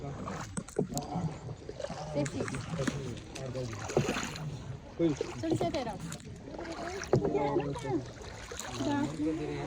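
Boat moving on water with passengers in life jackets, soft splashing and lapping under lively, excited talk from people on board.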